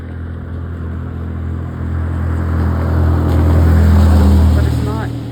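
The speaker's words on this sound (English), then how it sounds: "That sounds like the yellow car." A car drives past on a street at night, its low engine hum swelling to a loud peak and then easing off as it goes by.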